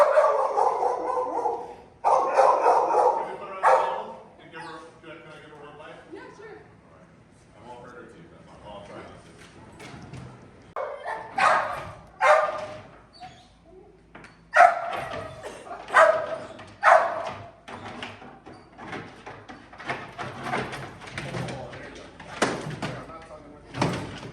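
A Presa Canario barks during protection training, with loud, irregular bursts of barking and yips mixed with thuds and clatter, while people talk and shout commands between the barks.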